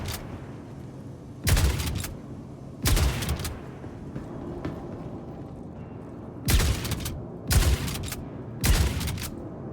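Gunfire in the video game Star Citizen: loud bursts of shots arrive in five separate volleys, two early and three clustered near the end, over a low background rumble.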